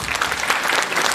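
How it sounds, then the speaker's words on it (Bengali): A theatre audience at a Calcutta Rowing Club stage play applauds the backstage crew in a brief, dense burst of clapping that fills the room at an even, loud level. "সব থেকে বড় সম্মান, সব থেকে বড় হাততালি কিন্তু তাদের জন্য।"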